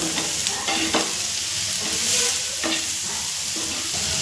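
A mixture of garlic, ginger, tomatoes and onions roasts in a pan, a dense continuous sizzle with repeated close stirring scrapes every second or so.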